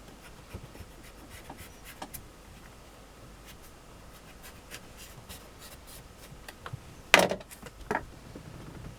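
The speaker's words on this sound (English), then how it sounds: "I'm going to get the knife, I'm going to cut around it, like so." A knife scratches and scrapes softly around a clay disc cut for a coil pot base, faint and close, ending in two sharper taps.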